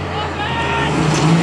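An off-road rally car, a Road Runner, is driven hard on a special stage, its engine droning loud and close with rising revs, while people talk under the noise.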